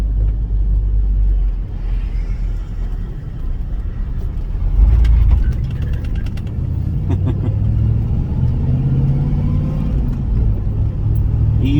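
A 1978 Pontiac Trans Am's 400 V8 with a lopey cam idles with a deep, steady rumble and a slightly uneven, loping pulse, close and continuous throughout.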